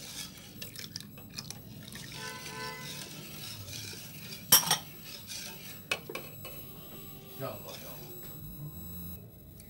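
Spoon scraping and clinking against a pot as thick rice pudding is stirred, with soft intermittent metallic taps and a sharper clank midway.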